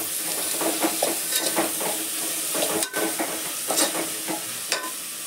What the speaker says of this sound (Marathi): कांदा थोडासा भाजून झाला की मग मी खडे मसाले घालते त्याच्यामध्ये